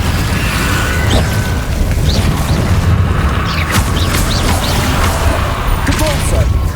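In Hogwarts Legacy, the Incendio fire spell and other combat spells go off in an unbroken, loud wash of roaring, booming effects, with faint rising whooshes layered on top.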